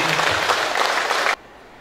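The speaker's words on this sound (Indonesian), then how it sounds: "Mari kita berikan tepuk tangan untuk adik-adik yang hari ini" Applause for students at the opening of a weaving-focused entrepreneurship education program in Malaka, Indonesia, brisk group clapping that cuts off abruptly after just over a second, leaving quiet room tone.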